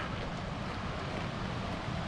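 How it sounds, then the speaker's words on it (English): The American River flows beside a campground, a steady, loud broadband rush of moving water that stays constant from start to finish, with no voices. "here's the American River"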